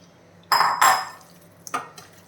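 Marinated onion chicken is stirred in a pan, giving two loud metallic scrapes and clatters of a utensil against the pan, then a quieter clink and scrape near the end, with no talking.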